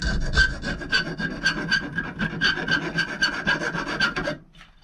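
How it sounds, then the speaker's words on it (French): A metal hand file smoothing a part on a 125 two-stroke motorcycle ignition, rasping in quick rhythmic back-and-forth strokes, close and loud, about a dozen strokes before stopping abruptly. "Un petit coup de lime pour fignoler tout ça."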